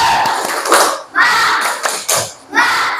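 A classroom of children performs the tepuk semangat clapping chant, with loud, rhythmic bursts of group claps and shouted syllables in quick succession, close and energetic.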